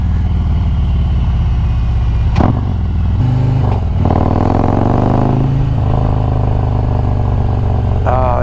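A 2020 Harley-Davidson Road Glide Special with a 128-cubic-inch big bore kit and raised compression rumbles at a deep idle, then snaps through several sharp throttle blips that rise and fall back to idle, loud and close.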